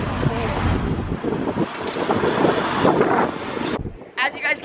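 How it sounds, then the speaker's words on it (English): Strong wind roars and buffets the microphone in heavy gusts in Battle Mountain, Nevada, cutting off abruptly near the end before a brief rustling burst. "As you guys can tell, it's really, really windy right now."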